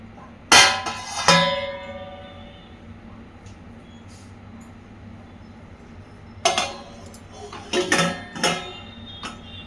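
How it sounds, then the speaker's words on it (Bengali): A metal cake-batter pan set down inside a wok, two sharp clanks near the start and a cluster of clinks and scrapes later, close, over a quiet background hum. "এর মধ্যে বসিয়ে দেবো কেকের ব্যাটারটা। স্ট্যান্ড লাগানোর দরকার নেই, তো এইভাবে বসিয়ে দিলাম।"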